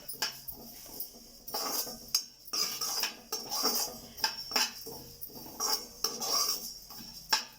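Sesame seeds being stirred in a metal pan while roasting for drumstick leaf powder, giving repeated scraping and clinking of a utensil against the pan in an irregular rhythm, close and fairly quiet, with no talk.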